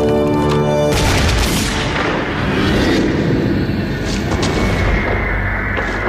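A thunderous rifle volley fired in a historical documentary re-enactment, one loud boom that rolls into a long, dense rumble filling the rest of the clip after a brief musical intro.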